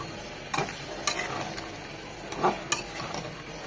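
Chicken with tomato sauce stir-fried in a pan gives a low, steady sizzle, with a handful of brief spatula scrapes and knocks against the pan at irregular intervals, close and without voices.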